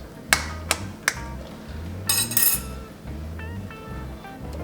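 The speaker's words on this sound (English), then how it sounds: "now it's time to crack the egg" Raw egg cracked against a hard edge at home: three sharp, close knocks in quick succession, followed by a brief crackle of shell pulling apart and faint kitchen clatter, with no talking.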